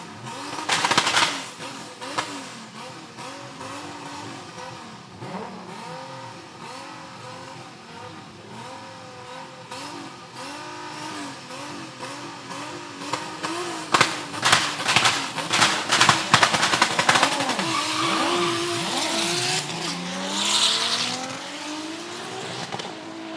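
A VW Golf 6 and an Audi A3 race cars launch side by side from a standing start, engines revving hard with sharp pops and tire squeal, then roaring away and fading.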